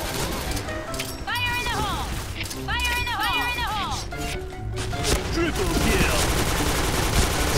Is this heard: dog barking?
no